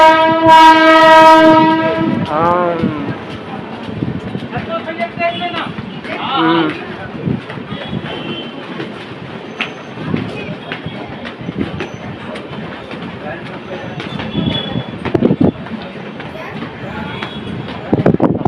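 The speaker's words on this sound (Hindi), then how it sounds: "देख सकते हैं दोस्तों जो ट्रेन जा रही है किनारे" A train at a railway station sounds a long loud horn, then rumbles and clatters past close by, with steady wheel noise and squeals over the platform bustle and voices.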